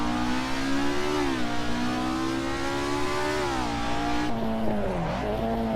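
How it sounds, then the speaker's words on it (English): A car drifts sideways during a race in the video game Assetto Corsa, its engine revving in rising and falling sweeps with tire squeal mixed in, loud and close. "it's fun drifting, but drifting while you're in a race"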